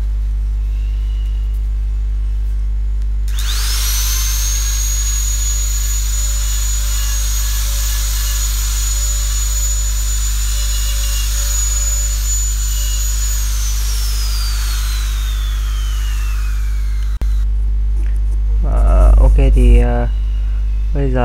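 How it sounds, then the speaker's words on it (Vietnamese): A wood carving machine fitted with an unsharpened three-edged carving bit on a 6 mm shank spins up to a loud, steady whine over a constant electrical hum, holds it for about thirteen seconds, then winds down, with no talking. "bây giờ là mình sẽ lắp thử vào máy và mình dùng thử cho anh em xem"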